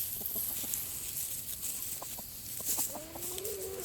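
Backyard chickens, a rooster named Brutus among them, cluck softly and steadily at close range, with a brief higher squawk near the end and no talking.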